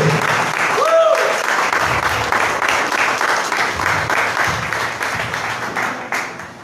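Loud, steady applause from a church congregation fills the whole stretch, dense clapping that swells and holds, with a voice briefly rising over it near the start and fading slightly toward the end.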